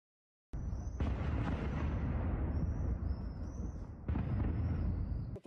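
A distant, heavy blast from a destroyed occupiers' position with ammunition in eastern Ukraine, a rolling roar that swells and sustains, then a second surge of rumbling, all low and muffled.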